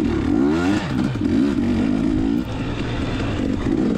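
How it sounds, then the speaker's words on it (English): A KTM 250XE two-stroke dirt bike engine runs loudly up close at an off-road race, a raspy buzzing drone whose pitch sweeps up and down as the throttle rises and falls. "KTM 250XE is running well"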